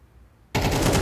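Automatic rifle spray in Counter-Strike during an IEM Katowice 2025 match, with a quiet moment that breaks into a sudden, loud, continuous burst of rapid gunfire.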